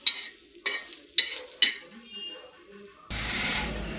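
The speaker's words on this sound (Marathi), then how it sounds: "तुम्ही बघू शकता इथे आपला कांदा भाजून झालाय." Onion being roasted and stirred in a pan for a Maharashtrian black-masala cluster-bean curry, heard as four sharp scraping stirs with soft sizzling between, then a steadier hiss toward the end.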